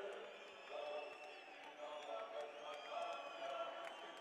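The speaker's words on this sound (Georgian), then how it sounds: "ოვაციებით ეგებება მას დარბაზი" An arena crowd at a GFC 26 heavyweight MMA event cheers faintly as a veteran fighter enters, the roar swelling under steady commentator talk.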